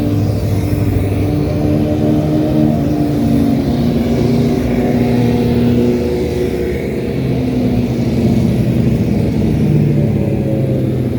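Several novice-group motorcycles ride past on a race track during a track day, their engines a loud, continuous drone with shifting pitch as bikes follow one another through the turn, with no voices.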